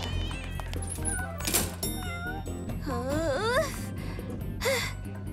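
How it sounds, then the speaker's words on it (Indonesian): Cartoon cat meows amid a busy animated soundtrack with background music, several rising, wavering cries stacked over the score, one around the middle and another shorter one near the end. "Aku tidak menyangka seekor kucing bisa masuk kantor."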